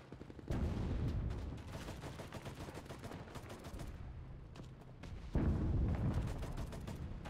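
Gunfire and sniper shots crackle through a war video game, a dense, continuous barrage of rapid overlapping shots and blasts that surges loudest at the start and again near the end, with no voices.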